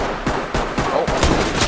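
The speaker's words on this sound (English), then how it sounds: "Gunfire. Out of the doorway." Rapid bursts of gunfire crack in the tactical shooter game Ready Or Not, several loud shots in quick, uneven succession filling the short stretch.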